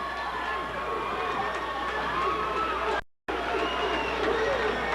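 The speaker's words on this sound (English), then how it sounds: "Just listen to this crowd." A high school boys' basketball crowd in a gym, a 1995 game between Cooper City and Hallandale, keeps up a loud, steady roar of cheering and shouting. It breaks off for a split second, then resumes at full volume.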